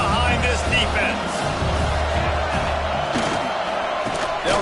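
A stadium crowd at a college football game roars in a dense, sustained wall of noise, with a commentator talking over it.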